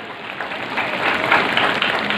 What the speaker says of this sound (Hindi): तालियों की आवाज, मौसम में धीमी नहीं होनी चाहिए।